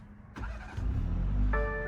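Push-button start of a 2020 BMW 330i: after a quiet moment, a brief starter whir, then the engine catches and settles into a steady low idle, followed by a cabin chime.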